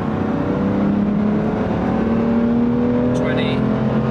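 A BMW M2 Competition track car pulls hard in fourth gear, its engine drone rising steadily and loud inside the cabin, with a voice speaking over it.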